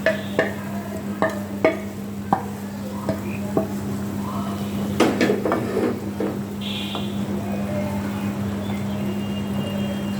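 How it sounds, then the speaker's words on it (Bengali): Fried catfish goes into a pot of boiling bitter gourd and potato curry: a few sharp clinks and scrapes, then a continuous bubbling sizzle and stirring, with no one speaking. "এবার আমি কষানো মাছগুলো দিয়ে দিচ্ছি।"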